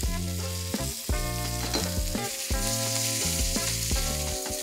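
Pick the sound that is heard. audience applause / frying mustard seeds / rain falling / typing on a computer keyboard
frying mustard seeds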